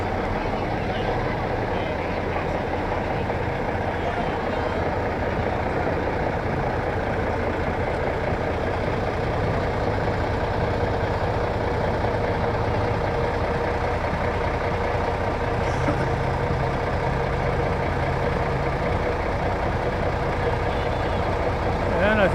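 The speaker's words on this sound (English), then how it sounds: "And we got a big old camouflage truck here." A big camouflage truck idles with a steady heavy low rumble at a town parade, the Battle of Plattsburgh, continuous and fairly close, with someone talking over it.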